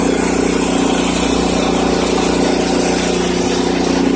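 An 8 hp 27-inch snow blower engine runs steadily at a loud, close idle, a constant rough mechanical drone with no break or talking.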